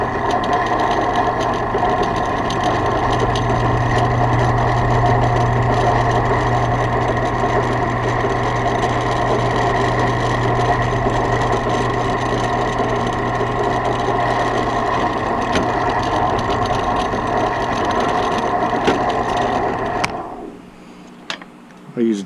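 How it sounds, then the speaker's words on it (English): A drill bit bores through lubricated workpiece material, throwing off curled ribbons of chips, giving a loud, steady mechanical whir and drone that runs unbroken for about twenty seconds before cutting off abruptly. "Add some lubricant for the drill bit to go through so we can watch the ribbons"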